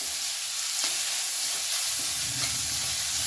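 Onion being sautéed in a pan with garlic, a steady bright sizzle with soft stirring scrapes, close and unbroken, no voices.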